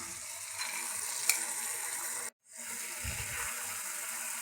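Soaked, drained chana dal drops into a pan of frying tomatoes, raising a steady close sizzle with a brief gap of silence before the hissing resumes.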